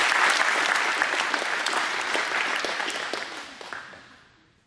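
An audience gives a round of applause, dense clapping that starts loud and steadily fades out over a few seconds.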